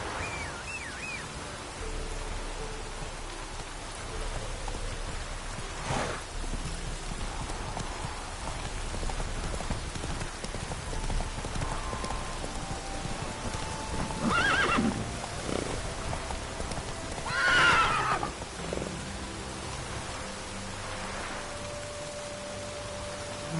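Roach, a horse in a video game, neighing in a couple of short whinnies over soft hoofbeats and a steady rain-like hiss, fairly faint, with no talking.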